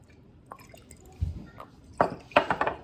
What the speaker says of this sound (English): I'm gonna put a little Worcestershire on it for the binder